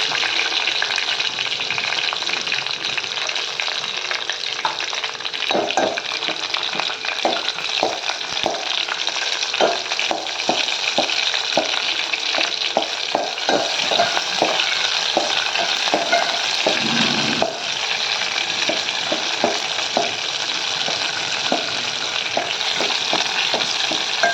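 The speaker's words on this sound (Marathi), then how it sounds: "लसूण चांगला भाजला" Continuous sizzle of chopped garlic frying in ghee, with repeated scraping and stirring clicks from a utensil against the pan, close and steady throughout.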